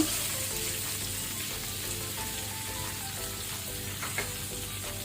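Curry leaves and onion fry in hot oil over a medium flame as a tempering, giving a steady, dense sizzle with soft crackles that runs through, close and alone without voices.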